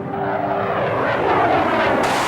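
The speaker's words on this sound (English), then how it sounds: "high-speed fighter planes have changed much since World War I." A high-speed fighter plane flies past with a loud, continuous roaring rush that swells slightly and stays close throughout, with no voices.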